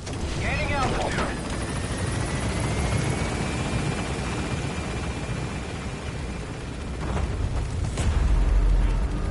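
A helicopter lifts off from a landing zone in Metal Gear Solid V: a loud, constant rotor roar with a rising turbine whine as it gains altitude. Voices speak over it.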